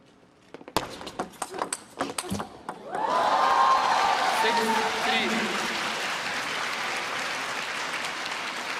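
An arena crowd at a table tennis women's singles semifinal between two players bursts into loud, sustained applause after a point, preceded by a few sharp ball and paddle sounds, with talk mixed in.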